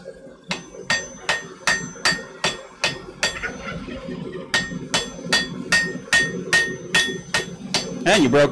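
A blacksmith's hammer rings against metal in a smithy in a steady rhythm, sharp bright strikes repeating about twice a second, close up, with a short pause midway.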